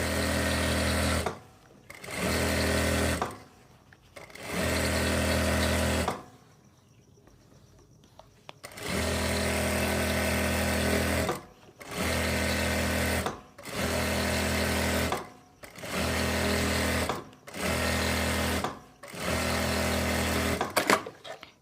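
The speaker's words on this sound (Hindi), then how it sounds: "तो एक सिलाई हम इसके ऊपर से लगा लेंगे। ये सिलाई हम बिल्कुल सेंटर से लगाएंगे।" A sewing machine stitches elastic into the waistband of palazzo pants, running in about ten loud bursts with short pauses between, and a quieter stretch midway where the motor stops.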